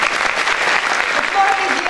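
Applause from the audience at the opening ceremony of a Model United Nations conference, a dense, steady clatter of many hands filling the hall at moderate loudness, with a faint voice briefly audible beneath.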